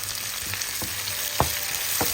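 Steady close sizzling of onions frying in a hot pan, with a few sharp scrapes of stirring cutting through the continuous crackle.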